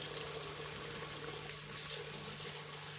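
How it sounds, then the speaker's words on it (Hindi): Steady rush of water poured into a cooking pot of roasted black chickpeas, a continuous close splashing stream with no pauses throughout. "चनों को भूनने के बाद आपने इसके अंदर पानी डाल देना है"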